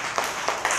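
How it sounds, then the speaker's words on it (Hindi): Children clapping hands during a tyre-spinning game, a few loose, uneven claps in a short burst at moderate distance. "बाकी बच्चे तालियां बजाइए"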